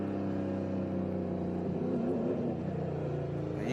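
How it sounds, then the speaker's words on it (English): A Toyota Camry NASCAR stock car engine drones steadily on the Watkins Glen road course. Its pitch wavers and dips as the driver feathers the throttle into a turn, loud and continuous throughout. "you can even hear Joe Nemechek trying to feather that throttle"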